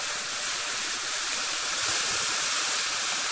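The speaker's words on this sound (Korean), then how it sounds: "그래서 전체적으로 좀 겉면이 노릇노릇한 느낌이 나도록 구워주세요." Herb-seasoned pork tenderloin pan-frying, a dense steady hiss of sizzling fat that holds loud and even throughout, close up with no talking.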